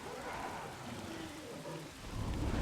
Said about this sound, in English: Starts to rain.